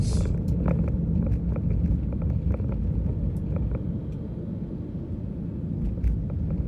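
Steady low engine rumble heard from inside a 2012 BMW 320 E90 sedan while driving, with faint wind and road noise throughout and no talk.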